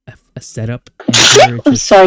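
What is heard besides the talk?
sneeze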